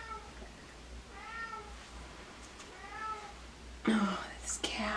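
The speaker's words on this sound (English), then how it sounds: "Oh, this cat." A house cat meowing indoors, three drawn-out meows at moderate distance over a quiet room, followed by brief talk from a person.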